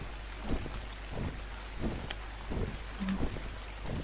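Steady rain falls in the survival video game ARK Survival Evolved, a constant hiss broken by soft periodic thumps and rumbles, with no voices.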